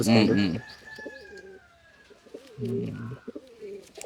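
Girebaz pigeons coo in soft, throaty bursts, one loud near call at the start and another a couple of seconds later, with faint chirps and a thin whistle-like tone between them.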